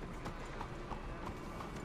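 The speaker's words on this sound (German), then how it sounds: "Mein Pferd joggt manchmal spontan los." A horse trots in a video game, its hooves making a steady, rhythmic clip-clop at moderate volume throughout.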